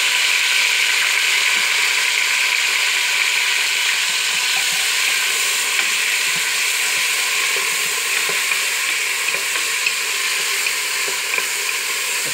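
Tomatoes frying with browned onions in a pan, a loud steady sizzle that holds continuously throughout, with faint stirring scrapes beneath and no talking.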